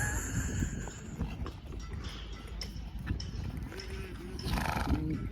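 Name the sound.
mare (horse) galloping at tent pegging practice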